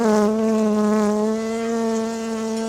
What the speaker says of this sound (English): the bees are just clearing out, moving down.